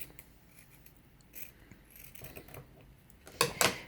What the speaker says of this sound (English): Take and cut right through the center.